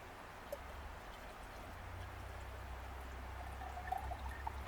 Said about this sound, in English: so you can slowly pour that in, and then we'll top it off with the vodka